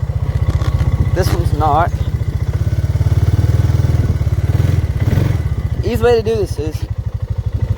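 Dirt bike engine running with a fast, loud, close pulsing exhaust and a revving surge, its front tire spinning, while someone talks over it.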